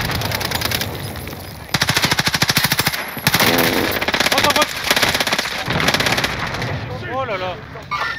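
Rapid automatic gunfire in Call of Duty Modern Warfare, loud sustained bursts of bullets with short pauses between volleys, over game ambience and brief chatter.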